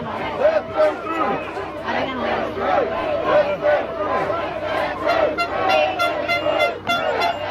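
Dense crowd shouting and chanting outdoors, many voices overlapping in loud, continuous bursts with rhythmic surges, close and unbroken throughout.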